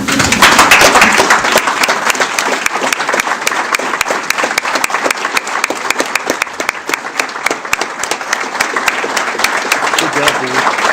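Standing audience at a police department employee honoring ceremony gives a sustained, loud round of applause, dense clapping filling the room from start to finish with some voices mixed in.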